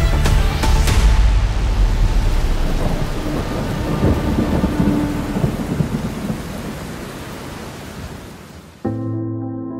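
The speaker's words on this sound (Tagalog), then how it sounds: "walang humpay na buhos ng ulan dahil sa habagat" Heavy monsoon downpour with rolling thunder, a loud crack at the start fading into a steady roar of rain, then an abrupt cut to music at the end.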